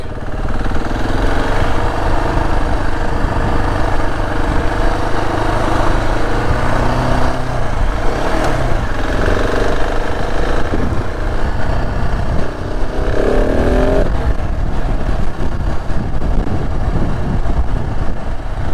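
A KTM 690 motorcycle engine runs steadily while being ridden, giving a loud, continuous drone with slight rises and falls in pitch throughout, heard up close with no talking.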